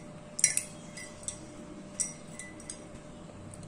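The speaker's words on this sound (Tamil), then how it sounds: "நல்லா ரெண்டையுமே மிக்ஸ் பண்ணி விட்டுக்கோங்க" A spoon mixes a drink in a glass, sounding as several light, sharp clinks at irregular intervals over quiet background hiss.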